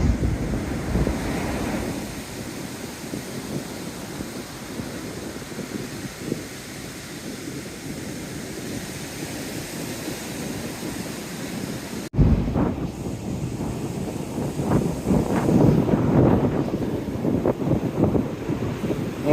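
Strong wind rushes across the microphone while waves surge and break nearby after a tropical storm, steady and loud throughout with a brief gust-driven jump partway through.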